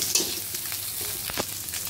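Beaten egg vorta mash frying in a hot pan gives a brief, steady sizzle with a couple of soft stirring scrapes near the end.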